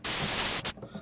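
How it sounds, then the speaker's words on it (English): White noise from the FL Studio 3x Osc synthesizer, with its first oscillator set to noise: a loud, flat hiss lasting about two thirds of a second, then a brief short burst before it cuts to quiet. "So now you have white noise"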